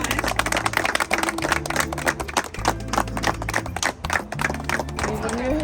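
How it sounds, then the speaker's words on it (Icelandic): A crowd at the 2024 opening of the Elliðaár rivers claps warmly for the Reykjavík Citizen of the Year, the quick applause continuing throughout with a low musical drone underneath. "Við gefum henni gott klapp!"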